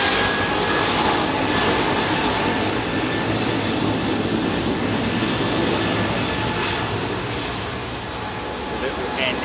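Airbus A320neo jet airliner at London Heathrow runway 27R, its engines giving a loud, steady broadband roar up close that holds throughout and eases slightly near the end.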